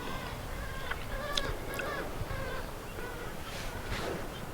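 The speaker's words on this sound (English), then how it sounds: "Some bird making a racket over us." A bird calls repeatedly overhead in an outdoor setting, a series of squawking, honking cries against a steady background hiss, fairly faint and somewhat distant, with no talking.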